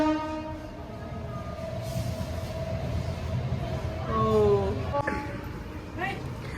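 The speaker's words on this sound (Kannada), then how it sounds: "ಓ, ಟ್ರೈನ್ ಬರ್ತಿದೆ. ಟ್ರೈನ್" A train rumbles past nearby with a steady low roar, and a long horn blast sounds toward the end while voices murmur underneath.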